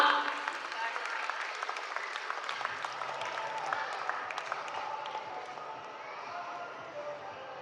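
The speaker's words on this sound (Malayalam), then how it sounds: "നല്ലൊരു കൈയടി എല്ലാവരും അനുശ്രീക്ക് കൊടുക്കുക" A crowd applauds steadily at a film trailer launch event in Kollam, a dense wash of clapping that holds for several seconds before slowly thinning, with a voice faintly underneath.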